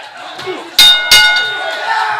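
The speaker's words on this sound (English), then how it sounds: "Ring the bell like you mean it!" A wrestling ring bell is struck twice in quick succession, each a sharp metallic clang ringing out over a noisy arena crowd.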